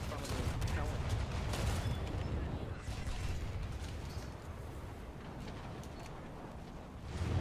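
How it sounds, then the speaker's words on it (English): The Admiral Hipper, a German heavy cruiser in War Thunder, fires its naval guns in a dense, continuous barrage of booming blasts and rumbling roar that runs the whole time with no break. "Fire all the guns!"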